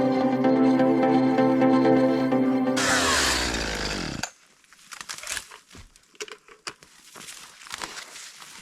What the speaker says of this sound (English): You see me bucking up all the limbs.